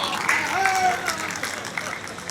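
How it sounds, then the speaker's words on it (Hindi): Applause from the audience at a Hindi comic poetry recitation festival, a continuous spread of clapping, moderately loud, with a voice or tonal sound briefly rising over it early on. "तालियां बजा आनंद लीजिए आप"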